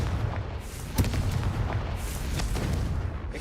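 Confringo blasting spell bursting in Hogwarts Legacy, a dense run of booming, crackling explosions with a sharp loud hit near the one-second mark and steady rumbling blasts throughout, no talking.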